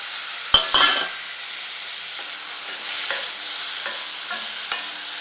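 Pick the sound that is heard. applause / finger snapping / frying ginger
frying ginger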